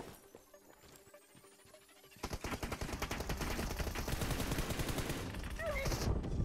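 Automatic gunfire in the mobile game PUBG Mobile breaks out after a quiet start and continues as rapid, dense bursts that grow steadily louder.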